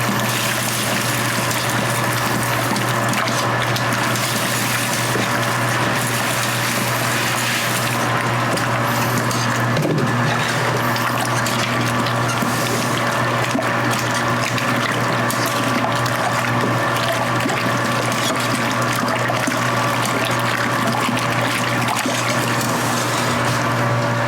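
A pump steadily pushing water into a bourbon mash of baked apples, with a continuous liquid rush and a low, even motor hum that carries on without a break.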